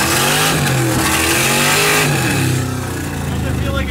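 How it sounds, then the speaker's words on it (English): A car fitted with an LS1 V8 engine accelerates hard, its loud, rising engine note filling the cabin with gear-driven pitch sweeps, heard from inside while the car is driven. "So Tommy's driving the LS1"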